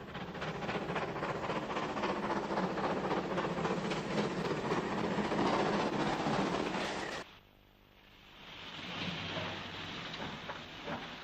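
A British pannier tank steam locomotive pulling a train, a loud continuous rolling roar with rhythmic wheel beats, cutting off abruptly into a quieter stretch of distant rail noise that builds again.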